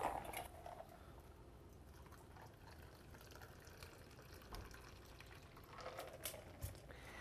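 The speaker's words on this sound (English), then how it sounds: "you're going to strain it into your chilled cocktail glass" Pisco Sour cocktail poured through a Hawthorne strainer into a chilled cocktail glass, a faint close trickle of liquid with a few soft drips and clinks in a quiet room.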